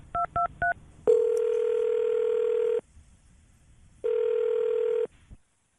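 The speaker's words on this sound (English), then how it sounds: "we're going to call Taryn right now and see if we can get her on the phone" A phone call being placed to a radio show guest: three quick keypad tones, then two long ringback tones separated by a pause, clear and close.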